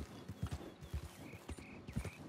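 Horse hooves clip-clopping at a walking pace in Red Dead Redemption 2, a quiet, evenly spaced series of soft thuds with faint background ambience.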